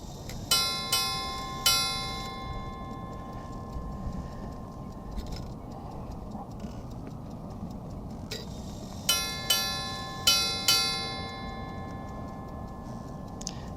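A vintage ship's bell clock strikes bright metallic chimes in paired strokes, one group at the start and another later, while soft ticking and room noise fill the gaps.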